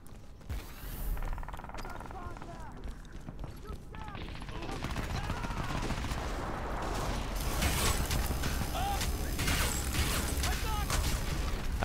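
Gunfire in Crysis 3 crackles in dense bursts amid mechanical clatter and creaks, growing louder and busier over time, with a voice talking intermittently underneath.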